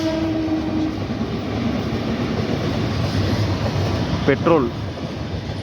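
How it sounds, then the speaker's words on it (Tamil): A train passes a railway crossing with a steady heavy rolling rumble and rail clatter, close by, while someone talks over it and a horn-like tone sounds briefly. "6வது ட்ரெயினுங்க."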